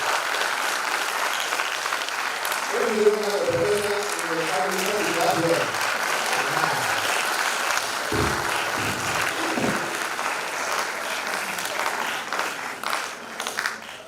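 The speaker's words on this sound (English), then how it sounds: "Applause to sir" Steady audience clapping at a university postgraduate research gathering continues across the whole stretch, moderately loud, with someone talking over it in the middle.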